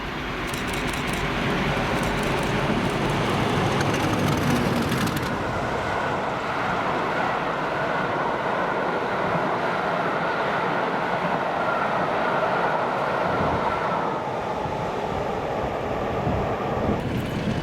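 A GBRF tour train hauled by a pair of Class 50 diesel locomotives passes near Cumnock, a sustained rumbling roar with rail noise and a few high squeals early on, loud and steady throughout with no voices.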